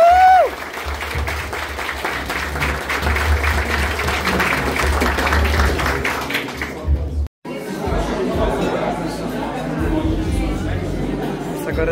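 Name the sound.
applause at a 70th birthday celebration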